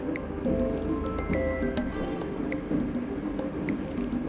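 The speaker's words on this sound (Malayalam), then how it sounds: "ഇനി ഇതിനകത്തേക്ക് ഞാൻ 1 ടീസ്പൂൺ വിനാഗിരി ചേർക്കുന്നുണ്ട്." Vinegar is added to cooked soya chunks for chilli soya, producing close, wet squishing with small drips and splashes of liquid.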